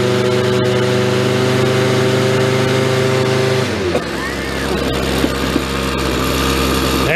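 Weed eater two-stroke engine idling steadily while its low-speed carburetor screw is adjusted, a close, loud buzzing drone whose pitch drops abruptly partway through and then settles into a rougher, lower idle.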